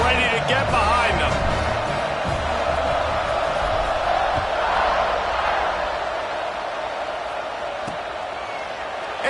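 Florida State football stadium crowd at kickoff, a broad, loud roar of cheering fans that swells and sustains throughout, with an announcer talking over it.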